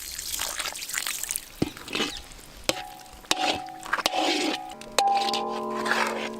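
Water is poured in a kitchen during a cooking show, a steady trickling hiss broken by sharp clinks and knocks of dishes and utensils, fairly close.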